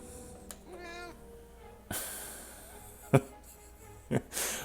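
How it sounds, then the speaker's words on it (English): A cat meows loudly in a room, with a few sharp, separate cries against a quiet background and faint voices in between. "Unbelievable volume on this cat. How do you even get so loud? Such a small animal. So much screaming."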